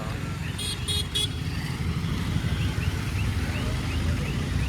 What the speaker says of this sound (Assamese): হৰ্ণ মাৰিলে নহয় বাবা আমাকো যাব দিব লাগিব